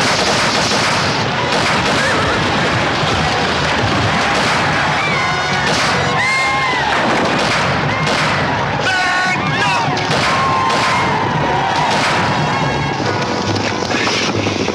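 Dense battle gunfire from a classic western film, rifles and shots crackling continuously amid shouting, wind and a roaring, chaotic soundtrack, loud throughout with no clear pauses.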